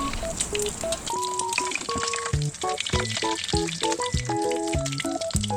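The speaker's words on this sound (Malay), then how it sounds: "So kita gorenglah telur mata." A sunny-side-up egg sizzles steadily in hot oil in a pan, frying as a topping for Malaysian fried rice, with bright melodic background music playing over the continuous crackle.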